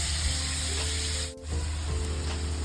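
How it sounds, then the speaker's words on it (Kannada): Mustard seeds spatter in hot oil in a pan while cooking egg burji, a steady loud sizzle with scattered small pops and one brief dip in the hiss, and no voices. "ಸ್ವಲ್ಪ ಸಾಸಿವೆ ಎಣ್ಣೆ ಇರೋ ಕಡೆ ಹಾಕಿದ್ದೀನಿ, ಸೊ ದಟ್ ಅದು ಸಾಸಿವೆ ಸ್ವಲ್ಪ ಸಿಡಿಲಿಕ್ಕೆ"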